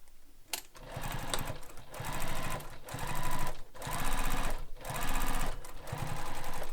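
A sewing machine top stitches a crossbody bag in a run of short, steady bursts of fast stitching, close and clear, separated by brief pauses.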